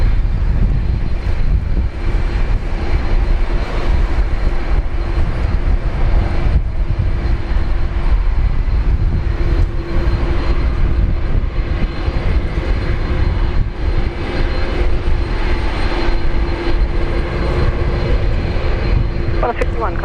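An Airbus A330-200 jet takes off from Brisbane Airport with a loud, continuous engine roar that stays steady throughout, and faint voices sit beneath it.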